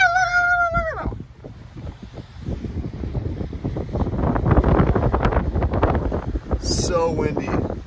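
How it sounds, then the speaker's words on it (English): Strong wind buffets the microphone in a snowy Big Bear mountain setting, a loud, rough, continuous roar that builds midway, with a voice briefly heard at the start and end. "So windy, holy schmoly."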